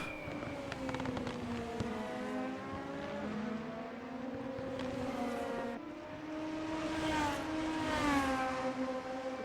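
Race cars driving during a Super Formula championship finale, engines rising and falling in pitch as several cars pass, with steady moderate loudness and no voices.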